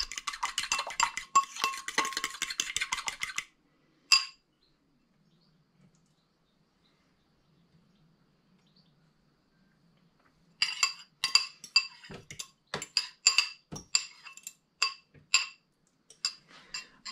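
Egg yolks being beaten in a bowl with a whisk or fork, rapid rhythmic clinking for a few seconds, a long pause, then a second burst of quick, uneven metallic taps against the bowl.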